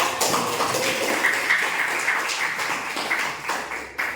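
A classroom group applauds for group 2 during a teacher's lesson, with a fairly close, continuous patter of clapping that thins toward the end.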